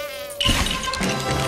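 Swarming bees from a hive in the LEGO Harry Potter video game, a steady high insect buzz with a brief tonal chime near the start, then a denser buzzing drone that carries on to the end.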